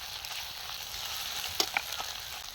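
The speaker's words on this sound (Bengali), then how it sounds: "এবার আমরা দিয়ে দিলাম আদা বাটা, রসুন বাটা, লঙ্কা বাটা। মশলাটাকে জবরদস্ত করে কষাতে হবে।" Ginger, garlic and chili paste masala fries in a pan with a steady close sizzle and crackle, a couple of spoon or pan clinks cutting in briefly.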